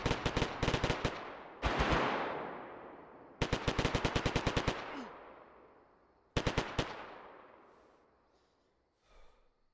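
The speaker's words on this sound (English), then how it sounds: "Shots going off." Automatic gunfire in a roleplay video game: three loud, rapid volleys, each trailing off in a long echoing decay, with a soft breath near the end.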